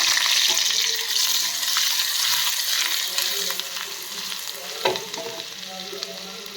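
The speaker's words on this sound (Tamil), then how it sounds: "எண்ணெய் காஞ்சிட்டு சீரகம் போட்டுக்குவோம்" Steady crackling sizzle of cumin seeds frying in hot oil, close and continuous, with a few sharper pops.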